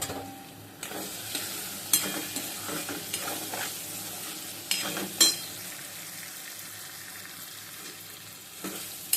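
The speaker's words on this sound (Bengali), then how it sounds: "ভালো করে লাল লাল করে ভেজে নেব" Spices and green chillies fry in a pan, a soft steady sizzle broken by sharp scrapes and knocks of stirring at irregular intervals, close and fairly quiet.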